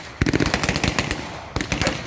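A .50 cal machine gun firing in long rapid bursts at a WW2 battle reenactment at Quex Park, a dense rattling stream of shots with a brief pause before another burst, loud and outdoors.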